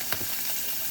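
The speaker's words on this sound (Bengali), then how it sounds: "কড়াইতে একটু সর্ষের তেল দিয়ে মাছগুলো ভেজে নেব" Fish frying in mustard oil in a wok, giving a steady, close hiss of sizzling with a brief louder crackle near the start, no voices.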